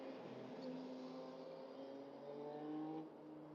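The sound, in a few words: motorcycle passing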